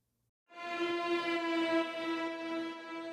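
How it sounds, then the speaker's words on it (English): A falling string-like synth tone in a melodic techno track swells in abruptly after a moment of silence and sustains brightly, dense with overtones, slowly fading slightly toward the end. "on the second drop, I have this cool string falling sound."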